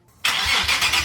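A Nissan 370Z Nismo with a modified exhaust fires up and revs, a sudden loud, deep engine roar that holds steady close by after a brief quiet start.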